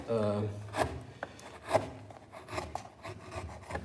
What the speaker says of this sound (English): the chisel I'm using is a 8/8, so it's definitely more round than the one I will use